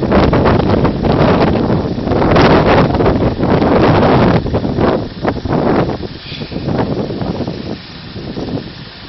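Strong, gusty wind roars and buffets the microphone at a level crossing. Loud rushing bursts come and go unevenly, easing somewhat toward the end.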